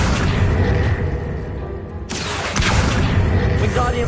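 An Accio summoning spell cast in Hogwarts Legacy, a deep booming whoosh against a steady bed of game noise, with a bright burst of energy at the midpoint that fades into a continuing rumble.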